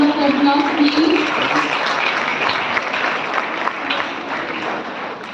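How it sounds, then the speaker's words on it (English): Audience applause at a live university event, a dense steady wash of clapping from a large crowd, loud and close, fading slightly toward the end. "Big round of applause, please."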